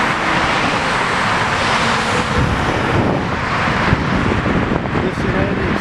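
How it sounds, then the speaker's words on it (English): A Boeing 777 airliner on approach to O'Hare airport, its broadband engine roar steady and loud throughout, mixed with wind buffeting and distant traffic noise. "777 coming in from Hong Kong."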